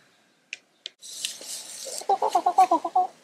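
Free-range hens in a permaculture chicken run give a quick burst of rhythmic clucking, about eight close, loud clucks in a row, preceded by a couple of sharp ticks and some rustling.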